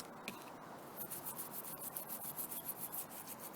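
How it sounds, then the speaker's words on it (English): A brush scrubs a car throttle body clean, quick back-and-forth scratchy strokes in a steady rhythm, close and fairly quiet with no talking. "So just scrub away."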